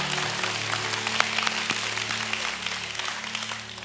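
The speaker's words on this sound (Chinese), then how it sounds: "拍掌将荣耀归给神。" A church congregation claps in praise, a broad steady wash of hand claps over sustained low musical tones throughout, with no voices standing out.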